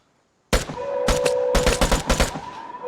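Gunfire in the video game Vigor: after a silent half second, a loud close burst of shots cracks out, then several more rapid shots in uneven clusters, with a ringing tone underneath.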